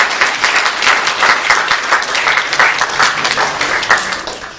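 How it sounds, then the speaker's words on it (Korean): A church congregation applauds during a Sunday worship service to welcome a newcomer, a steady wash of many hands clapping at close range, sustained for several seconds before trailing off at the end. "예, 박수로 환영하겠습니다."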